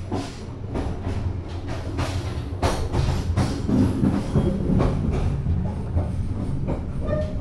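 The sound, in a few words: KA Kertajaya passenger train running on rails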